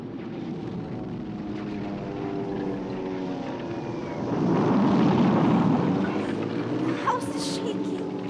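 A droning propeller-plane sound effect from a high school stage production of The Diary of Anne Frank rumbles steadily overhead, swelling louder midway as the aircraft seem to pass close, under faint background voices.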